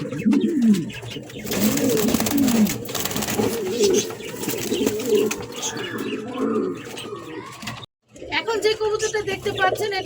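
Pigeons kept in a pet-market setting, offered as breeding pairs, coo in low rolling phrases beneath someone speaking throughout, with a brief drop-out near the end.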